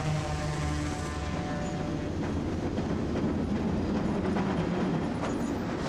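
Train cars roll along the rails in a loud, close, continuous rumble, with rhythmic clattering and metallic rattling throughout and no voices.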